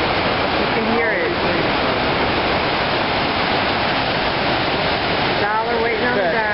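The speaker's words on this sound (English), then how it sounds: "Here we are in Spokane Falls." Spokane Falls on the Spokane River thunders in a loud, steady, unbroken roar of rushing water close by, with faint voices briefly audible beneath it.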